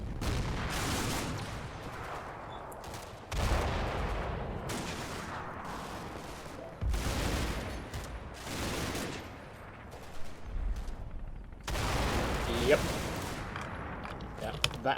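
Gunfire crackles in the Combat Mission: Battle for Normandy war game as troops take fire in a house. Loud bursts of shots and volleys alternate with quieter pauses.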